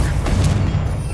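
A Confringo blasting spell detonates in Hogwarts Legacy, a loud, dense rumbling boom with crackling bursts that fills the whole moment over continuous game sound.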